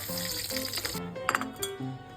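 Noodles (mi goreng) with fish cake sizzle and crackle in a home kitchen pan, a bright frying hiss that fades after a second, with steady tonal notes and a light clink on top.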